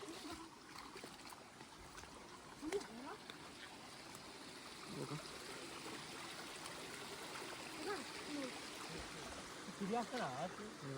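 Steady soft trickle of water running continuously in a very old pond, a gentle outdoor flow with faint background sounds throughout.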